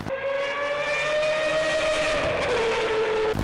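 A Mazda 787B rotary-engine race car at the 24 Hours of Le Mans screams past with a loud, steady, high-pitched whine that sags slightly in pitch near the end, heard alone.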